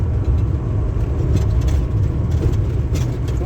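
A large van or minibus accelerates gently down a small hill on a road, its engine a steady close rumble under broadband road and wind noise, with no talk.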